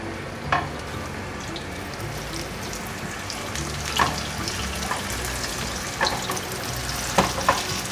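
Shaped tofu and enoki mushroom patties fry in a little hot oil in a flat nonstick pan, with a steady close sizzle broken by a few sharp crackles and pops and no speech.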